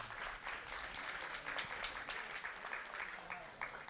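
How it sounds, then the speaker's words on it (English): Faint, continuous applause rises from an audience at a Jagannath Ratha Yatra gathering, honoring families and children who entered the Build a Ratha competition; the dense clapping stays steady and distant throughout. "Round of applause for all the families and kids that saw."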